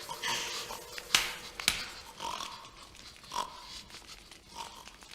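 Pigs grunt and oink in a short burst of snorts, with a few sharp clicks breaking through a busy, mid-loud mix.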